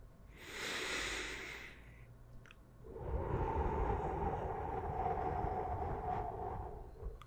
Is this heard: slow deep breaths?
yes